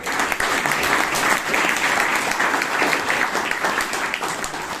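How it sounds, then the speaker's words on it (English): Audience at a Toastmasters club meeting in Bangalore claps steadily for a few seconds, a dense, moderately loud round of applause from a roomful of people. "please give him a big round of applause."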